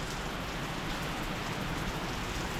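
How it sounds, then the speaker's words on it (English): Heavy rain pouring down during a downpour in Bali, a dense, steady broadband hiss of rainfall on surfaces, continuous and fairly close with no talk. "you can't really see the rain pouring down now"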